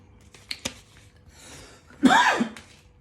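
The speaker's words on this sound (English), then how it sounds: "I had to counter a cough attack" A couple of short throat sounds, then a loud harsh cough near the end, close and alone without talk.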